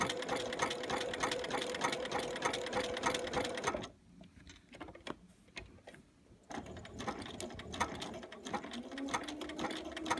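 A sewing machine stitches applique with a fast, steady mechanical whir and clatter close by, pausing briefly in the middle before resuming its rhythmic stitching.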